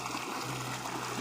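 A river being crossed on foot without a crossing point, with a steady, fairly faint broadband wash of flowing stream water throughout and no voices.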